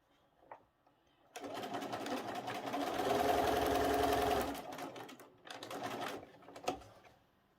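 A sewing machine stitches quilt pieces together in one long, steady whirring run, followed by a shorter burst, with faint handling clicks before and after; the motor is close and fairly quiet.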